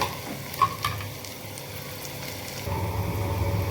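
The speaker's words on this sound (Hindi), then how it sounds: "फ्रेंड्स, प्याज मेरा भुन गया है।" Onions frying in a pan with green chilli, garlic and ginger nearby, a soft steady sizzle with a brief stir clatter and a slight swell toward the end, close and quiet, no talking.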